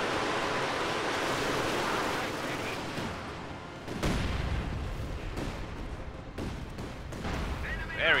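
Artillery barrage in Company of Heroes 2, a Panzer Warfare strike hitting infantry: dense rumbling blasts and sharp detonations layered over a continuous noisy wash of battle, growing heavier midway, with speech in the mix.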